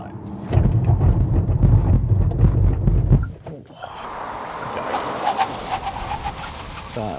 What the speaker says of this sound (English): let's do a stop from 100 and see what the brake and tyre package is like.